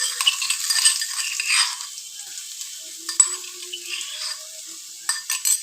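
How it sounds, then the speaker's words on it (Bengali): Garlic frying over a moderate gas flame, browning in a pan: a steady soft sizzle with light stirring scrapes and a few brief clinks, close by and without talk. "রসুনটা যখন এরকম ব্রাউন হয়ে আসছে"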